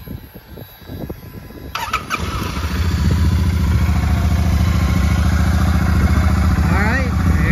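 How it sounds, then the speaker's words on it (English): A 2024 Royal Enfield Super Meteor 650 parallel-twin motorcycle engine cranks over after some quiet rustling, then catches and settles into a steady, loud, close idle that runs to the end. "we'll turn around so we can get a listen to that Royal Enfield twin motor."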